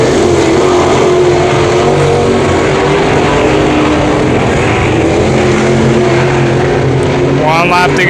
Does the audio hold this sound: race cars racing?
yes